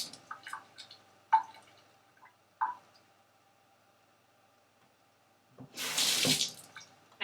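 A tap runs water onto a football helmet cake, first a few light drips and clicks in a quiet room, then a short, loud gush of splashing water near the end.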